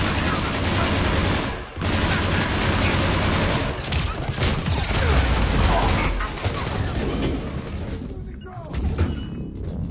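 A Mass Effect 3 firefight aboard a ship's command deck brings sustained, loud bursts of gunfire, automatic rattles and heavy thuds almost without pause, with voices faintly mixed into the din.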